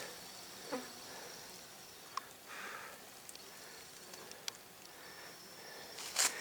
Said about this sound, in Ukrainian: На ромашках гудуть скрізь бджоли.